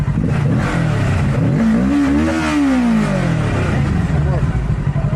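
A motorcycle engine revs hard toward redline, the pitch sweeping up and then falling back, loud and close, with steady engine rumble throughout.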